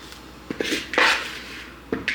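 Puppy chow ingredients dumped into a bowl: several clattering knocks and a rattling pour of dry pieces against the bowl, close and fairly loud, with no talking.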